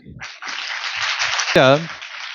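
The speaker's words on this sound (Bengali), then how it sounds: "এই হাততালিটা তোমাদের নিজেদের জন্যে" An audience at a question-and-answer session applauds with steady clapping that swells and holds, and a voice briefly rises over it near the end.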